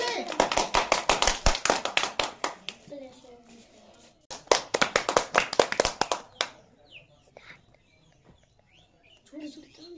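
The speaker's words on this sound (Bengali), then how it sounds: "সবাই জোরে হাততালি" Children clap loudly in fast, sharp bursts, the first run lasting about two seconds, a second run after a pause, then quieter scattered claps; birds chirp in between and a voice speaks briefly.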